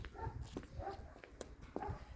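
A dog somewhere along a village road gives several short, scattered barks and yips, at moderate distance, with faint background rustle between them.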